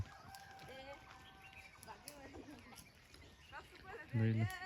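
A rooster crows and clucks at a rural village gathering during a Fagun Purnima celebration, with a loud harmonic crow near the end over ongoing chatter and background voices.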